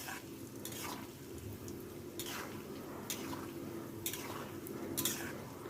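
Flour-coated peanuts frying in oil, stirred gently now and then: a soft, steady bubbling sizzle with periodic swishing strokes of the spoon at a slow rhythm, fairly faint and close.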